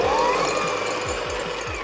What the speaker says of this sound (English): I am preferring to use my handheld whisk